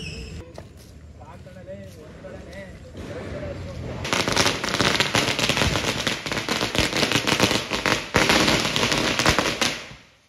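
A 1K roll of firecrackers bursts for Deepavali in a dense, rapid crackling string of loud pops that runs for about six seconds after a quieter lead-in with scattered small bangs.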